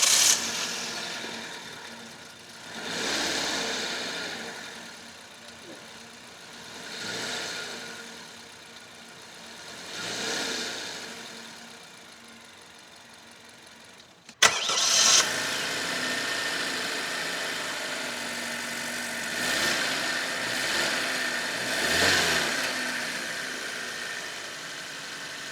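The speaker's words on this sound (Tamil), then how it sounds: "சரி, என்ஜினோட ரிஃபைன்மெண்ட் லெவல்ஸ் எப்படி இருக்குது அப்படின்றது இப்போ லைவாக பார்க்கலாம்." The engines of a Maruti Fronx and a Maruti Baleno, base Sigma models, each start and settle into a smooth, close idle. Unhurried revs swell and fall every few seconds, and a sharp start marks the second car midway.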